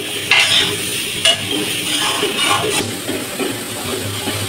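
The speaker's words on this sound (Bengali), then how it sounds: "ডালটা সুন্দর করে ভেজে নিচ্ছি" Dal frying in a pan, a utensil stirring and scraping in repeated close strokes over a steady sizzle, with no voices.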